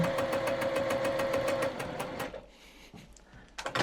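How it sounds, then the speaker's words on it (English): A sewing machine stitches a quilt block for half rectangle triangles in a steady rapid run for about two seconds, then stops, leaving quiet handling noise and a brief restart near the end. "Okay, so I've moved this over, now stitching."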